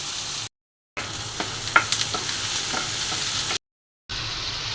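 Chopped onions sizzle in a pan for egg curry while a spoon stirs them, giving soft scrapes and a few sharp clicks over a steady frying hiss, cut by two silent gaps.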